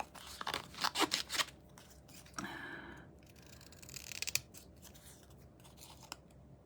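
Scissors snip through card stock for a handmade banner message card, a quick run of close crisp cuts followed by a long slicing pass and fainter trims, with no talk.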